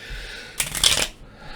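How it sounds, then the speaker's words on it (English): A deck of tarot cards shuffled once, a short close riffle of quick papery flicks and slaps under a second, alone after a quiet room hum. "Yes, I do know how to shuffle."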